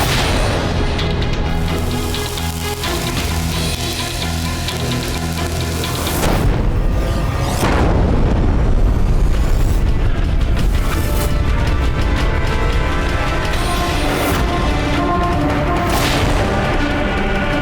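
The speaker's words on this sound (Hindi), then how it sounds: "शीघ्र निशाना लगाओ इस तोप पर, यही सबसे ज्यादा नुकसान कर रही है हमारा।" Cannon fire booms through a dramatized Maharana Pratap battle scene, with several heavy, loud blasts spaced a few seconds apart over a continuous roaring battle din and no talk.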